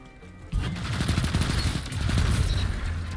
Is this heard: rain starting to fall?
no